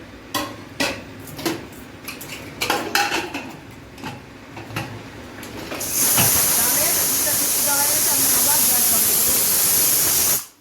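A pressure cooker with masoor dal and vegetables lets off a loud, steady whistle of hissing steam that holds for several seconds, preceded by clinks of pots and utensils and a voice.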